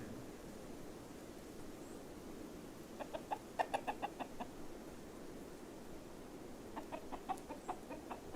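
Chickens cluck in two short bursts of rapid, repeated calls over a steady background hiss, fairly faint and with no talk, heard as a sound effect from the RimWorld colony game.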